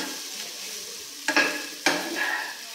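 Samosa filling masala being stirred in a pan with a spoon: a steady soft sizzle, broken by two sharp scraping strokes about half a second apart, close and clear with no talking.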